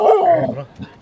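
A dog at a forest campsite at night gives a close, loud bark that trails into a whine, then a smaller yip a moment later.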